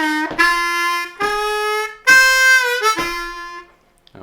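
A Bb harmonica plays a short blues lick of four reedy, sustained notes with bends and slides, loud and close, ending in silence.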